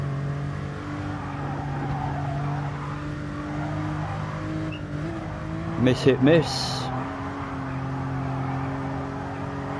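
A road car engine drones steadily as it laps a racing video game track, its tone shifting briefly mid-lap, with someone talking over it throughout.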